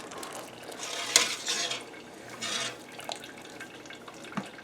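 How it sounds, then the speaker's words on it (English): Vegetable broth made from veggie peels and ends is drained and poured from a pot over carrots in other pots, a steady close splashing and trickling with a few louder sloshes. "I'm just going to drain this, and I'm going to pour this broth again over the carrots in the next 2 pots"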